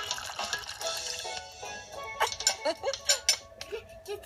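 Liquid pours from a fish-shaped pitcher into cups in a Disney Princess Ariel app game, giving bright splashy, drippy trickles with a few clinking chimes, moderately loud and continuous at first, then in short bursts.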